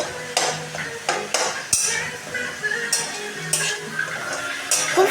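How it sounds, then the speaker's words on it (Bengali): Ginger, tomato, onion, chili and garlic frying together in a pan, close and loud, with repeated rhythmic scrapes and clanks of a spatula stirring over a constant sizzle. "দেখো আদাটাকেও আমরা টমেটো, পেঁয়াজ, লঙ্কা আর রসুনের সঙ্গে ভালো করে ভেজে নেব"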